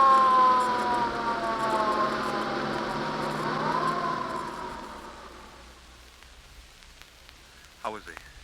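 Ambulance siren sound effect in a 1930s radio drama, a loud wailing tone sweeping up and down that fades away over several seconds, followed by a brief faint sound near the end.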